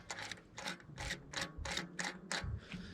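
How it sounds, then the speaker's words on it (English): A bolt being screwed into a mountain bike freewheel gives a series of about eight evenly spaced ratcheting clicks, close and fairly loud, with no voices. "what you want to do is you want to start off by just screwing this bolt in a bit"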